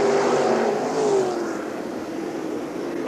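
World of Outlaws sprint cars roaring down the front straight at Eldora Speedway in 1997, a loud continuous engine drone with pitch sweeping as cars pass, under distant crowd ambience.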